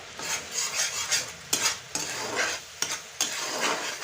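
Sweet-and-sour grape pickle in a pan being stirred with five-spice and cumin powder: repeated close scraping strokes of a spoon against the pan in uneven bursts over a soft sizzle, no voices.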